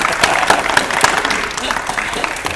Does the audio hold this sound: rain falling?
no